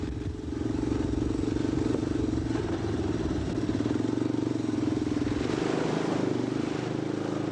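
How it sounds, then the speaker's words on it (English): Motorbikes crossing open Kakadu floodplains in 1987, a steady droning engine note running continuously under a faint background, fairly close and sustained throughout. "Malcolm and Jack, on their wide-tide bikes, negotiate the floodplains with ease."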